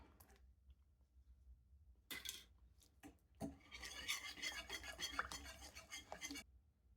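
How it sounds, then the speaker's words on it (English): Eggs being whisked into butter and brown sugar for brown butter toffee chocolate chip cookie dough: a few sparse scrapes, then a steady, close rasping whisk against the bowl lasting several seconds, with no talking. "I'm actually going to switch to a whisk. Got 2 eggs I'm going to add."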